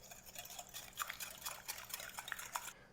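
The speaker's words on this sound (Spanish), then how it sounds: "Y voy a batir muy bien." A whisk beats crepe batter with vanilla and a pinch of salt in a bowl, a quick wet rhythmic sloshing with soft clicks against the sides, close and steady with no talking.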